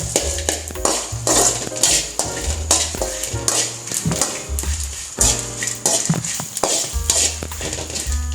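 Masala frying in coconut oil in a pan for Mangalore-style soya chunks sukka, with repeated rhythmic scraping and clinking of a spoon stirring against the metal pan over a soft sizzle.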